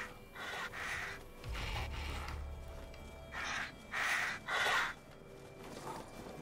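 Several harsh crow caws in the video game Resident Evil Village come in a loose series, raspy and fairly close, with a low rumble under the early calls.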